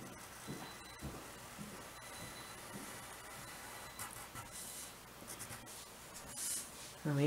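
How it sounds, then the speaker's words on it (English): A pen scratches across paper while a smooth curve is drawn for an algebra graph of logarithms, a faint continuous scraping close to the ear, with no talk over it. "we draw a nice smooth curve between them"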